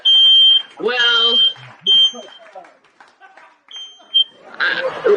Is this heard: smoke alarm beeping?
yes